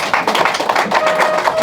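A seated audience of senior citizens rising to clap at a speech event, brisk uneven claps close by, loud and continuous over the whole stretch.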